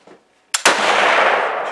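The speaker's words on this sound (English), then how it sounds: "Another crazy hang fire." A Lee Enfield No.1 Mk. III* SMLE rifle fires after a hang fire: a faint click, a short silence, then a sharp loud crack that rolls into a long echoing boom outdoors.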